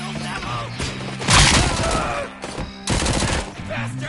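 Gunfire in Robocop Rogue City: loud bursts of rapid shots and impacts with crashing, close and dense, in two main volleys separated by a short lull over a busy combat soundscape.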